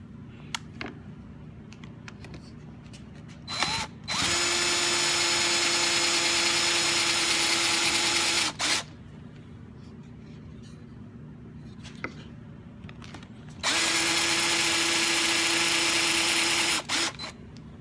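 A power drill boring through a Stew Mac Mini T kit guitar body into a backer board, two loud sustained whirring runs lasting several seconds each, with quiet handling knocks and clicks in between.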